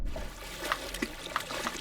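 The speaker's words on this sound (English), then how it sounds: "Dive into the water." Water splashes and trickles in the video game Teardown, a soft continuous wash of liquid with a few brief bubbly plinks scattered through it.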